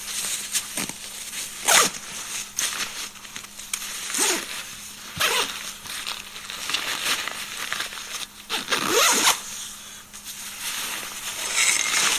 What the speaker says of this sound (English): now I'm going to zip up the horseshoe zipper on this pack